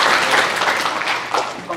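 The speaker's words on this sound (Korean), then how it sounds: "박수로 환영하겠습니다." A church congregation on Father's Day applauds to welcome a visiting husband attending for the first time, a close, brief burst of clapping with voices mixed in.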